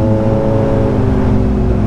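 A Kawasaki Ninja superbike engine, a Z900 or ZX-10R, revving hard for a wheelie, a loud steady near roar with a strong buzzing tone and no talk over it.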